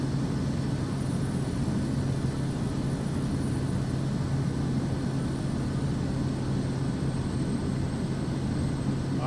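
Propeller aircraft engine in Microsoft Flight Simulator 2024, a DC-3 or Kodiak 100, holding a steady, dense drone with a strong low hum throughout, loud and continuous with no talking.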